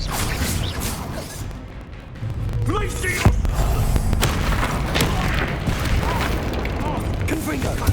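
A Confringo fire-blast spell goes off in the video game Hogwarts Legacy among booms and whooshes, dense and loud over a steady rumble of battle effects with a sharp crack partway through.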